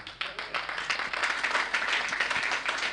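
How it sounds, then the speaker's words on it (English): An audience at a town hall gathering in Lagos bursts into steady, dense applause that holds at an even level for a few seconds. "Can we have a much louder round of applause,"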